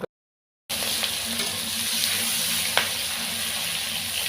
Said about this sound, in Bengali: মাছটা ভেজে নিচ্ছি, হালকা ভেজে নিয়ে তারপরে রান্না করব।